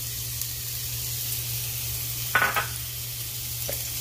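Chopped onion goes into hot oil, giving a steady frying hiss over a low background hum, with a short burst of clatter and stirring near the middle and a softer tap near the end; no one speaks.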